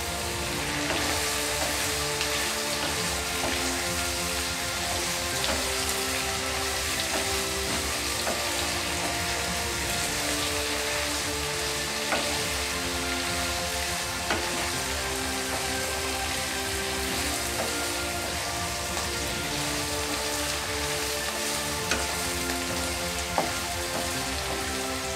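Pirandai (adamant creeper) dry-roasting in a pan gives a steady, dense crackling sizzle that runs evenly throughout, close and fairly loud with no voices.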